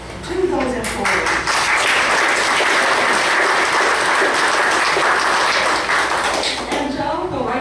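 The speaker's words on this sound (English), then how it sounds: "Let's give a round of applause to those employees." Sustained, dense applause from the audience at a county fiscal court meeting, honoring county employees; it holds steady at full strength throughout, with a voice audible at the start and end.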